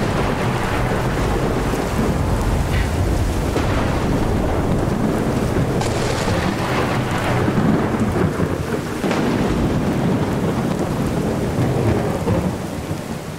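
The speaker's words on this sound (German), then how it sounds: "Aber Regen in VR sieht auch nicht schlecht aus." Heavy rain pours steadily in a Skyrim VR thunderstorm, with deep rolling thunder rumbling underneath, a continuous stormy roar with gusts of wind.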